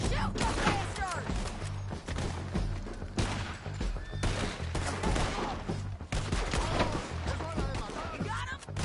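Rapid gunfire from a PS4 video game shootout at a bridge, bursts of automatic and single shots rattling nearly nonstop over a low rumbling score, with shouted voices mixed in.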